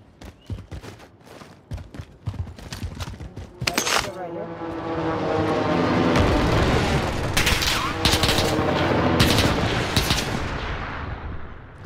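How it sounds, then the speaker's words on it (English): Rapid gunfire in Call of Duty Warzone on Rebirth Island, sharp bursts and sustained automatic fire that grows into a loud, dense barrage, with players talking over it. "Who the fuck's shooting at me?"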